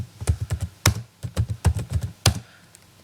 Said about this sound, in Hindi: वो कीबोर्ड के ज़रिए हम लोग के साथ वो नंबर एंटर कर लेगा